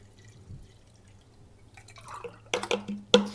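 Colonoscopy prep liquid goes into a container, starting quietly and turning into louder splashing, gurgling pours with a couple of sharp knocks near the end.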